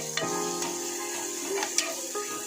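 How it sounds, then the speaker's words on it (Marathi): A spoon stirs turmeric into hot oil in a pan, with a few sharp metallic scrapes and clinks over a constant sizzle, close and clear. "थोडीशी हळद टाकून घेऊया त्यामध्ये आपण मिक्स करून घेऊया तेलामध्ये"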